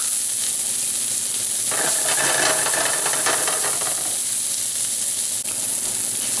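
Garlic sizzling in a pan of cooking julienned onions, a loud, steady frying hiss that swells for a couple of seconds in the middle, close up with no talking.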